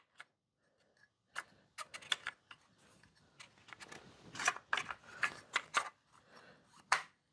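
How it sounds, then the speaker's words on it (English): The polymer guide of a Barrett MRAD rifle slides back into place with a series of small, close plastic clicks and scrapes, irregular and fairly quiet, with no talking. "All right, let's put that polymer guide back in. All right, slide it back into place."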